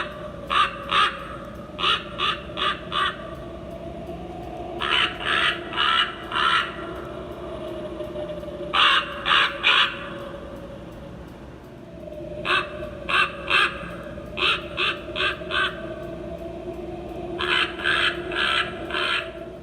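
A Grandin Road/Michaels animated turning-head raven prop plays loud recorded caws in bursts of three to five rapid harsh calls, the bursts repeating every few seconds over a faint steady electronic hum.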